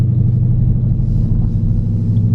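Deep, steady exhaust drone from a 2021 widebody Dodge Charger Scat Pack with a fully straight-piped exhaust, loud and close with a pulsing low rumble throughout the short stretch.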